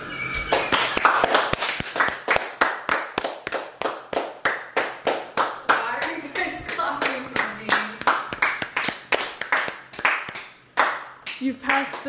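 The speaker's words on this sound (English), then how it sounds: "Let's all just start clapping for Julia when she comes out." A small group of people clap together for Julia in a home setting, a brisk, close rhythm of hand claps that runs throughout, with voices talking and laughing over it and a brief lull near the end.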